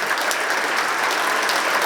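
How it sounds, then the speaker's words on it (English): A crowd in a high school gym gives a steady, dense round of applause for a retiring radio play-by-play announcer, sustained clapping throughout with no pauses. "Again, nice round of applause for Ron Novotny."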